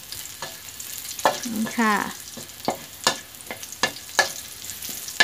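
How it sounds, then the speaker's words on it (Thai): Stir-frying aromatics in a pan for a chaya and pork dish, with crisp sizzling and regular sharp scrapes and taps of a spatula against the pan, and a short spoken word partway through. "คั่วไปเรื่อยๆนะคะคั่วให้หอมค่ะ"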